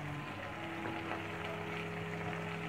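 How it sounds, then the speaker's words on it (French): Garlic and sliced, seeded bell peppers sizzle in a pan with a soft, continuous crackle and hiss, fairly quiet and steady throughout. "une fois que l'ail a pris, commence à prendre une petite couleur bien sympathique, on ajoute directement les poivrons épépinés et émincés"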